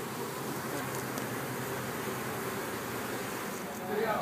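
Honeybees buzz steadily around a healthy hive started from a nucleus colony in a garden, a dense, even drone holding close and constant throughout, with faint voices in the background.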